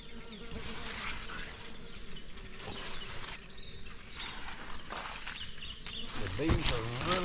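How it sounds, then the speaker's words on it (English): Honeybees buzz steadily around Dixie Hybrid crookneck squash plants in a garden on a morning after rain, close and continuous, with a person talking over them and rustling near the end. "The bees are really working on this morning after the rain we got last night."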